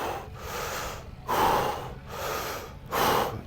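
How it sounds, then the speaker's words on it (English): Quick, forceful breaths in and out through the mouth, two full cycles in a steady rhythm, close and fairly loud, used to control breathing during calisthenics handstand training. "controlling your breathing, super important. So what I like to do is basically just in and out my mouth"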